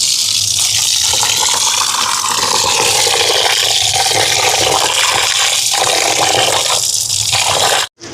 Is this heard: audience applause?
no